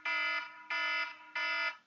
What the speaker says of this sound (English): And that is the timer going off